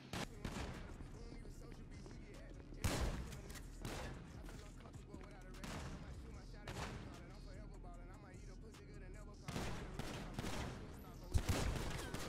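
Gunfire in a GTA roleplay shootout: repeated sharp shots and rapid bursts crack through a dense, noisy mix, some near and loud, others scattered, with voices in the background.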